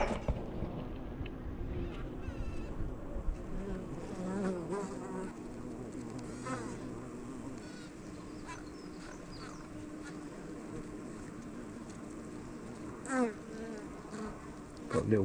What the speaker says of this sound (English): Got a little bumblebee in there.